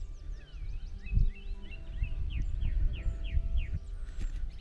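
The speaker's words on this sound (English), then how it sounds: "you may hear birds singing, and there has been a cuckoo calling." Birds singing outdoors near the original Glenlivet distillery site, a series of rapid chirps and whistled phrases in the mid distance over a low steady rumble, with no cuckoo call distinct.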